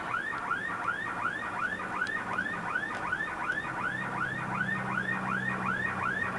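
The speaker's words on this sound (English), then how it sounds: "I did this mostly just so you could hear this siren on this last night on the Sabbath." An alternating warbling siren rising and falling in a quick, regular cycle over Jerusalem at night on the Sabbath, loud and continuous with a low hum beneath it.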